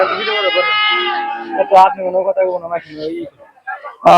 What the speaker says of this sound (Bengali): এখানে দুটি ছাগল রয়েছে খুব সুন্দর কালো কালার